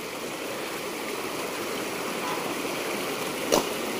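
Stream water flowing steadily over a small dam built across a canal in the Konkan countryside, a continuous broadband rush with no talk over it.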